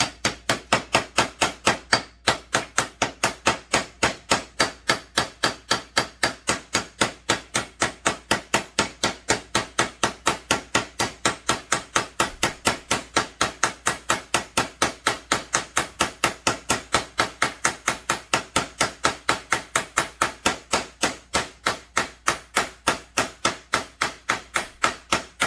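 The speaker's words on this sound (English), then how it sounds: "You want to rotate your hammer a little bit as you knock it down in there." A hammer taps a seal down into a Husqvarna 372 chainsaw crankcase, striking in a fast, perfectly steady rhythm of sharp metallic knocks, close and loud, repeating without pause for the whole stretch.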